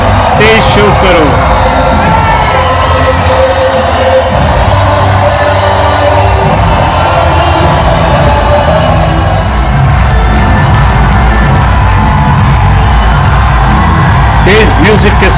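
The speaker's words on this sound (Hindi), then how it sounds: "तेज म्यूजिक के साथ बहुत बहुत उत्साह और तालियां और शोर" A large, dense crowd at the Atari-Wagha border ceremony roars and cheers over loud music, with whoops and shouts rising in a continuous wall of noise that swells near the end.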